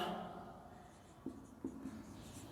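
Equations are written out for a Class 10 polynomials lesson, with a quiet scratching stroke and a few distinct taps of the writing tool as the lines are marked. Close, with no talking.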